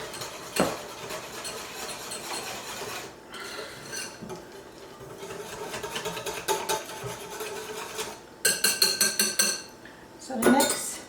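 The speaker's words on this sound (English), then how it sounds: "whisk all that till it's combined" Buttermilk whisked into chocolate chip muffin batter in a mixing bowl, with quick rhythmic metal-on-bowl clinks and scraping that come in bursts, growing louder and more rapid toward the end, close and fairly quiet.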